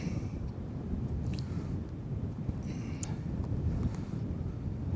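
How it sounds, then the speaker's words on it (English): Steady, rough wind buffeting the microphone on a metal roof, a continuous low roar with gusty swells throughout and no voices. "Extra windy out here today."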